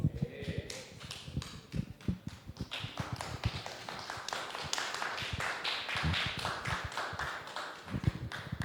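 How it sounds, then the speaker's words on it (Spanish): An audience applauds at a book launch, many hands clapping at a quick, uneven pace for several seconds, a moderate, roomy wash with individual claps standing out. "Lo aplaudimos."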